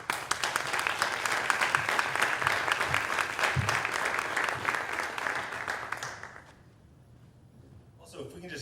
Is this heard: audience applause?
yes